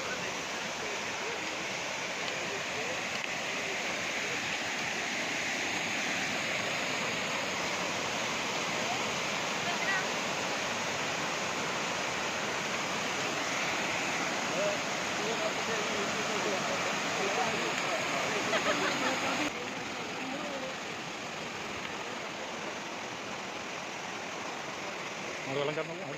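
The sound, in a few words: waterfall rushing on Agasthyarkoodam trek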